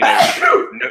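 A single close, loud sneeze bursting out over about a second, with broadband noise and a brief vocal tail, heard casually in a room during conversation.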